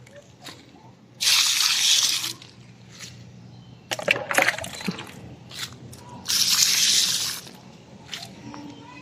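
Water pours and splashes in two loud bursts while plants are watered outdoors, with softer drips and trickles between them.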